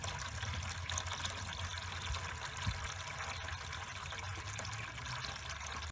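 Water is pushed through reversed hoses to flush the heater core of a 2009 Toyota Sienna, making a constant, fairly quiet rushing and trickling flow with no pauses or voices.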